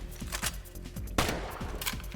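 Video game weapon firing in rapid bursts, punchy repeated gunshots with a sharp louder report near the middle, close and dominant with no talk.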